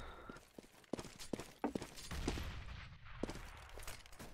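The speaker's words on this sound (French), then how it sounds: "On va prendre des échanges de coups de feu hein, au niveau de cette banane." Gunfire trading back and forth in Counter-Strike on the Inferno map, a scatter of sharp shots and short bursts at mid distance over low game ambience.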